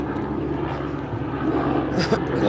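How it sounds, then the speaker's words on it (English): A low, steady engine rumble of a National Guard helicopter passing overhead, droning continuously and swelling slightly toward the end. "Helicopter flying over."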